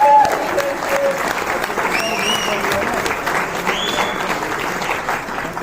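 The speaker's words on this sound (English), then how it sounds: "Give a round of applause to our helpers." Steady applause from an audience at a business presentation hall fills the space, a dense, even wash of clapping with a few faint voices and whoops rising briefly above it.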